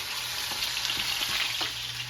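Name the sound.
sausage being tossed in a pan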